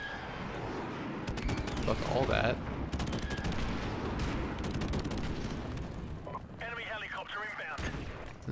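Explosions from an airstrike and rapid gunfire in a video game, with dense bursts of shots and booms throughout while someone talks over the noise.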